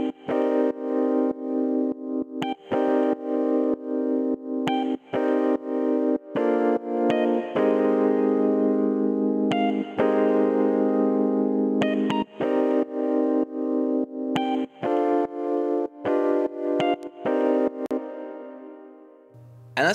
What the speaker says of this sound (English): So the full chord progression sounds like this